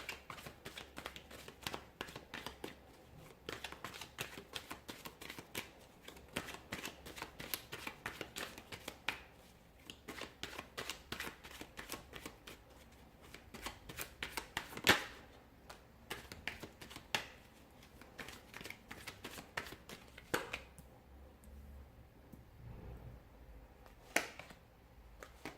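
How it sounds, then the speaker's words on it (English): A deck of tarot cards is shuffled up close, giving a long run of quick crisp riffling snaps and flicks that go on steadily, with occasional sharper taps and a brief quieter pause near the end. "So we'll give the cards a shuffle"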